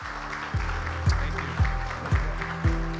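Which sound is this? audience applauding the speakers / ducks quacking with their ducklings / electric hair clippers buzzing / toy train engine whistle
audience applauding the speakers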